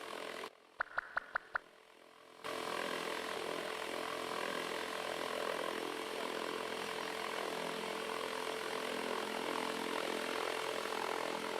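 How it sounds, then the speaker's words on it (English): An agricultural drone flies over a hybrid rice field, its rotors making a steady, even whirring drone that sets in after a few brief clicks and continues without pause. "The drone can be a matchmaker for rice plants because the wind it generates helps with pollination"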